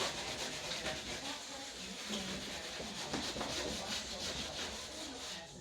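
Cloth rubbing finish onto a wooden floating shelf, a soft continuous scrubbing and swishing with small irregular strokes, close and quiet throughout.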